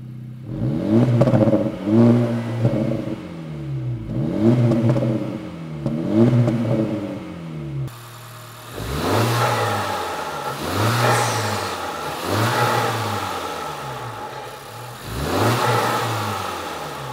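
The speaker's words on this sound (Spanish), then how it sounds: "el Integra suena y borbotea con un bajo que desmiente su motor de pequeño desplazamiento" An Acura Integra Type S engine revs repeatedly, its deep exhaust burbling with a bass unusual for its small displacement, rising with each blip of the throttle before dropping back, loud and close.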